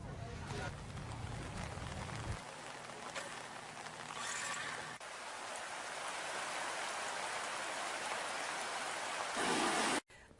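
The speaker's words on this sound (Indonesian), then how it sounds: "Sementara hujan juga masih terus-menerus mengguyur wilayah tersebut" Heavy rain pouring down on a flooded area, a dense continuous hiss of falling water with a low rumble early on, steady throughout and swelling briefly near the end before an abrupt cut.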